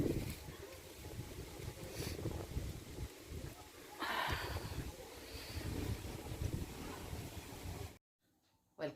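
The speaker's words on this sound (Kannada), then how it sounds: "ಸಿಕ್ಕಾಪಟ್ಟಿ ಗಾಳಿ ಬಿಟ್ಟೈತಿ, ಚಳಿ ಜಾಸ್ತಿ ಐತಿ" Strong cold wind blowing and buffeting outdoors, a loud rushing roar in gusts that cuts off abruptly near the end.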